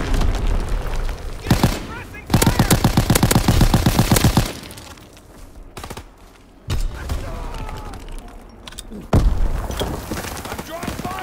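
A World War II video game battle crackles with rapid bursts of machine-gun fire, single shots and booming explosions in uneven clusters, with voices speaking between the bursts.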